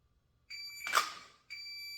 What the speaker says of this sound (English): before that second beep